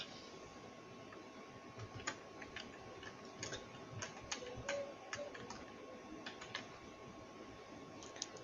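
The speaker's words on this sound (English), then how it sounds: "I'm going to type something very short" Quick, light key taps on a computer keyboard while typing a short email subject, soft and steady with a faint background hum.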